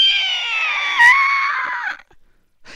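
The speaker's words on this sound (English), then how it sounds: "someone let out a horrific scream" A horrific, shrill scream rings out loudly for about two seconds, ending in an abrupt cut to near silence with only faint stray sounds afterward.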